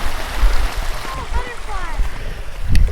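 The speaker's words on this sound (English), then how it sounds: "It sounds like a waterfall or something." Broadband rushing water from a rocky river, steady and fairly loud like a waterfall, with murmured voices and faint birdlike calls mixed in, and a louder splash or thump near the end.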